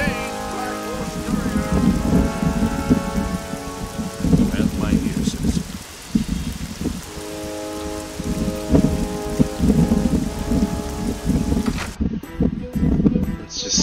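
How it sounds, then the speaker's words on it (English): Steady rain pours down outside in the fantasy role-playing game The Elder Scrolls IV: Oblivion, with low rumbles of distant thunder rolling under the dense patter throughout. "Rain outside."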